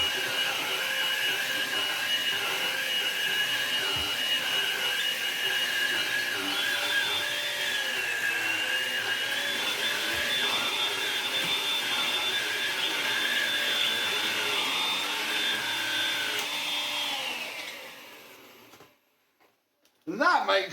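A vacuum cleaner in a home vacuum test runs with a steady, loud whine and motor drone for most of the stretch, then shuts off and winds down into near silence, followed by a short burst of noise at the end.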